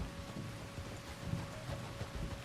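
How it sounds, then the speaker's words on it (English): Steady rain falls in the Red Dead Redemption 2 game world, a soft, even patter on surfaces with a low rumbling undertone throughout, fairly quiet, with no speech. "There's rain on the wind."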